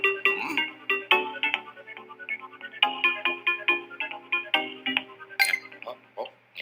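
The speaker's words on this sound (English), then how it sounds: "And I love the ringtone." The Virtual Boo ringtone from the video game Luigi's Mansion 3 chimes in a bright, clear melody of repeated tinkling notes and pings. It rises and falls in short bursts, with a few sharp clinks near the end.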